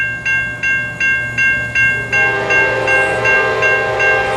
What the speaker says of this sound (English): we got the Amtrak 91, southbound by Selma on track 1, going over to the connection of CSX and NS